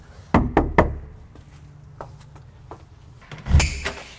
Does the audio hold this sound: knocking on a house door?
yes